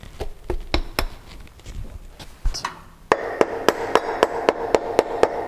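Metal shield being tapped back onto a Mitsubishi L200 transfer case with a hammer, a steady series of sharp, close knocks, preceded by scattered taps and handling noise in a garage.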